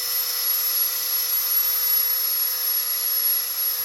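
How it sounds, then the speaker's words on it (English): A rotary wire brush scrubbing rust from a Maserati GranTurismo wheel hub, a steady high-pitched whining grind heard close and loud, unbroken for several seconds. "I'm just gonna go with the wire brush now because it's still some rust in"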